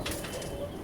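A pet pigeon beats its wings in a quick burst of soft, rapid flaps close by, set against a steady background hum.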